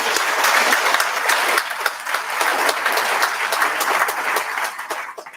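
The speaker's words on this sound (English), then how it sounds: "please give them all another round of applause" Sustained applause from a crowd honoring veterans at a Veterans Day ceremony in Orland Park, a steady dense patter of many hands that holds fairly loud for about five seconds before tapering off at the end.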